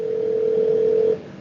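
A telephone call rings out on the line: a single steady electronic tone holds for about a second, then cuts off, leaving a quiet hiss.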